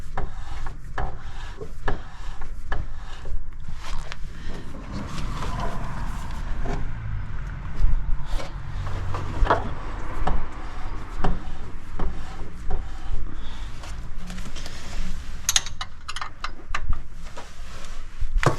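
A car wheel on an old 18 hp vehicle is turned slowly by hand, its drum brakes giving a rough, uneven rubbing and scraping with scattered knocks, close and continuous.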